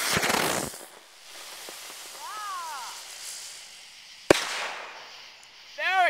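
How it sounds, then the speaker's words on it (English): A spinning rocket firework goes off outdoors during a fireworks display in Alabama, opening with a loud fizzing burst, then a long whistling hiss with a rising-falling whine, a sharp crack and a final screeching whistle. "This is a explosive spinning rocket thing."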